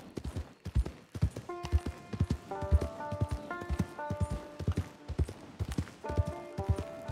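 Horse hooves clip-clopping in Red Dead Online, a brisk, irregular run of close hoof strikes set against tonal game music.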